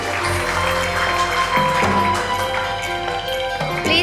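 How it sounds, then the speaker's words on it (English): Applause from an audience at an anniversary celebration stage event as people are invited onstage, steady clapping filling the room with tonal music or hum underneath, no voices. "Give them a big round of applause."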